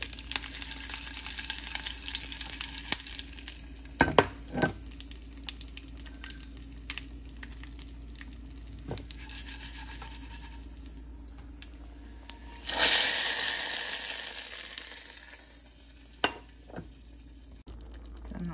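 Mustard seeds, dried chillies and curry leaves sizzle in hot oil while a chayote gravy is made, a steady crackling fry with a few sharp pops and a louder burst of sizzling near the end.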